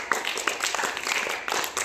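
Children clap in an uneven patter of hand claps during a classroom reading activity, moderately loud, with a little faint chatter mixed in.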